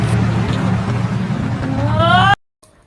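A sheriff's car in a film pulls away with a loud, steady engine roar and rising revving whine, cutting off abruptly into near silence.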